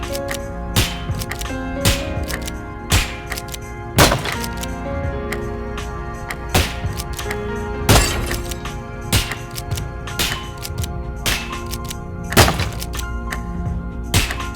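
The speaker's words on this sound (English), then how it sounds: "I also found this mini-game where you shoot targets with a pellet gun" A pellet gun fires repeatedly at targets in the survival horror game Nightmare of Decay, producing sharp cracks and thunks at irregular intervals of about a second over a steady background of game music.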